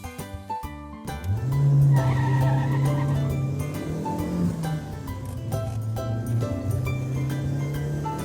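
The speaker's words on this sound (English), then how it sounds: "Sports car." A sports car accelerates hard with a rising engine note while its tires squeal and skid loudly, the screech held for several seconds and then repeated, close and with no talk.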